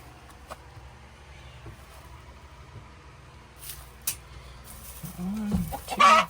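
Hens cluck softly inside a hoop coop with light brown-egg layers, scattered faint calls early on building to louder, closer clucking toward the end amid rustling.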